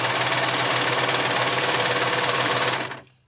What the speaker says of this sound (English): Be careful when you're using your serger that there's nothing caught up underneath.